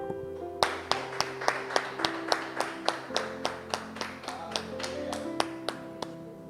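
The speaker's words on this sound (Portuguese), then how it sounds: "e um aplauso ao Senhor" A church congregation claps in a steady, even rhythm, about twenty sharp claps at a moderate pace over a sustained organ or keyboard chord, with little talk underneath.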